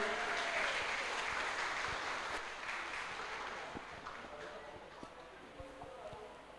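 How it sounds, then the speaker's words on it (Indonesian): Audience clapping at an Indramayu regency ceremony installing civil servants, a broad roomful of applause that starts full and gradually thins and fades, with faint voices and stray sounds underneath. "Beri tepuk tangan sekali yang meriah."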